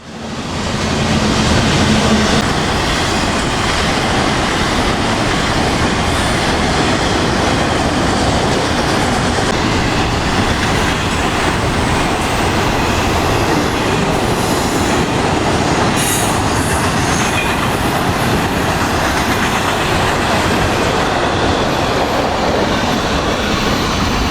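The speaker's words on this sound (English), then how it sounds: "we see a train in Deerfield Beach Station, so we sit here and wait for him to depart" A loud train rumbles past close by at Deerfield Beach Station in South Florida, a steady roar of rolling wheels and rail noise with faint squeals, sustained for the whole stretch.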